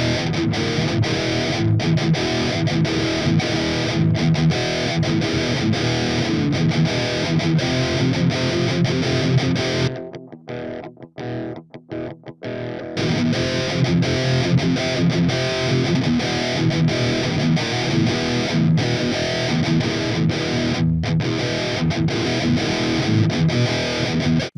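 Heavily distorted electric guitar through an amp simulator plugin, chugging steadily, dense and loud, with a brief gated break of choppy stabs in the middle before the riff resumes.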